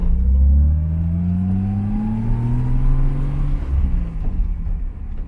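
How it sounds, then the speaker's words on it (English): Car with a manual transmission grinding its gears on a shift without double clutching, a low engine drone rising and falling with a rough crunch as the gear goes in, close and continuous. "So I didn't double shift there. Synchros had a hard time."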